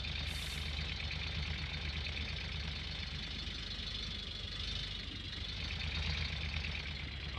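Heavy excavator engine in the Gold Rush game idling and chugging steadily with a knocking diesel rumble, close and constant throughout, with a brief high hiss near the start.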